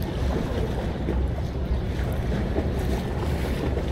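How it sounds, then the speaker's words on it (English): A water taxi ride along the Toronto waterfront on a hot day, loud continuous engine rumble and water wash blended with heavy wind buffeting the microphone. "let's take a water taxi."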